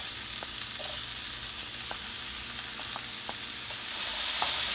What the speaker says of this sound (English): I mix it well, and wait for the onions to turn slightly golden brown.